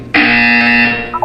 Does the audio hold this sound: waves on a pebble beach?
no